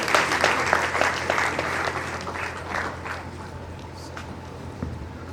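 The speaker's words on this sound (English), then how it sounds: "the Vice Chancellor deserves a big round of applause" A conference audience breaks into dense, lively applause that starts strong and gradually thins and fades, with a few scattered claps and faint crowd murmur toward the end.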